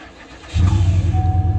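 A 2007 Pontiac GXP fitted with a new starter cranks briefly and fires, its engine catching at once into a loud, steady rumbling idle close by.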